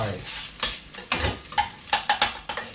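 Instant noodles with egg stir-fried in a pan, a low sizzle under a rhythmic series of sharp spatula scrapes and knocks against the pan, close and fairly loud.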